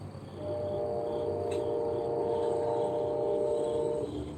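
A freight train horn sounds from a distance as one steady, sustained tone that holds for several seconds above low rumbling background noise.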